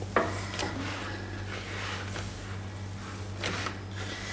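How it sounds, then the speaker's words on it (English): Dough for gulab jamun is kneaded by hand, with soft, faint rubbing and pressing sounds and a few light knocks over a low steady background hum, no voices. "You see how the dough is coming together, Lavanya?"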